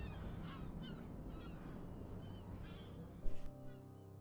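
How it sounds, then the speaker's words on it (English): Seagulls crying somewhere in the background of the Xenoblade Chronicles: Definitive Edition game world, a steady wash of ambient bird calls with one louder, sharper burst near the end. "Meanwhile, the seagulls are just making lots of noise from wherever they are."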